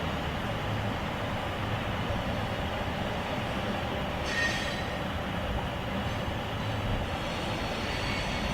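A BNSF grain train rolls past in downtown St. Paul. The railcar wheels give a continuous, steady rumble and clatter, with a brief higher squeal partway through.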